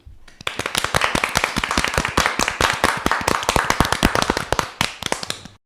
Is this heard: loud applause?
yes